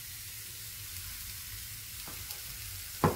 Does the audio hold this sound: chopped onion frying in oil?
yes